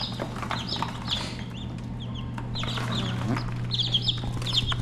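Newly hatched chicks chirp in high, quick peeps, several calls overlapping close by over a steady low hum, with occasional soft clucking mixed in.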